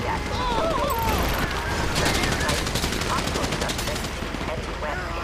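Dense rapid gunfire crackles through a shootout in Grand Theft Auto 5, with automatic bursts overlapping continuously and loudly while voices shout over the din.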